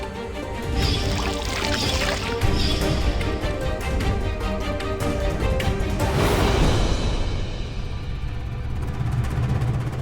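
Water poured into flour while mixing roti dough, a steady wet pouring and sloshing that runs continuously, growing into a messier splashing spill toward the end.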